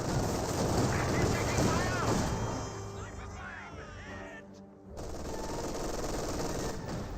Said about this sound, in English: MG42 is trying to suppress these forces